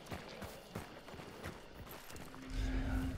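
Horse hooves clip-clop in the Hunt: Showdown video game, a quick irregular patter of thuds at moderate distance, with a low rumble swelling near the end.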